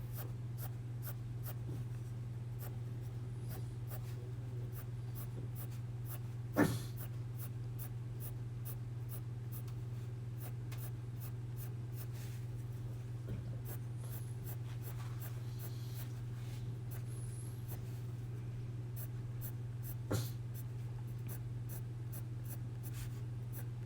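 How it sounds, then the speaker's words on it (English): A pencil colors lightly on paper in a coloring book, with soft continuous scratchy strokes over a steady low hum, close and quiet with a couple of faint taps. "Remembering to turn your pencil as you go."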